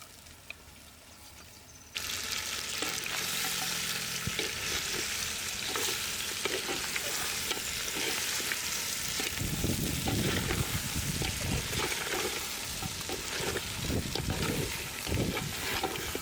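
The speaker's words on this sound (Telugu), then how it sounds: "ఇప్పుడు ఉడకబెట్టిన తలకాయ కూరను వేసుకొని ఫ్రై అయ్యే వరకు కలుపుకోవాలి" Boiled goat head curry, Telangana style, fries in a clay pot under constant stirring, with a loud steady hiss and sizzle and irregular scrapes. A quieter stretch at the start gives way to the full frying sound, with no talking.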